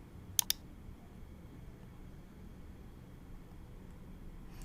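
Two sharp mouse clicks sound in quick succession near the start, close and crisp, followed by a low steady background hiss, during work in dental splint design software.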